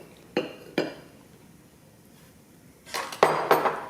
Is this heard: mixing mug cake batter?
yes